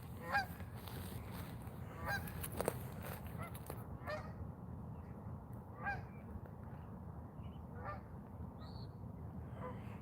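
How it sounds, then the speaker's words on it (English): Geese honk repeatedly from the middle of a large river eddy. The calls come in scattered bursts at a moderate distance over a steady background of water and wind. "See those geese there, right out there, right in the center of this big eddy"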